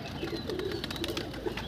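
A young pigeon coos in soft, repeated low throaty calls, close by and fairly quiet.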